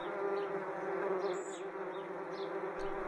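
A voice imitates a swarm of buzzing bees during a children's story read on a back porch, a continuous close, droning hum lasting a few seconds with slight wavering and no words.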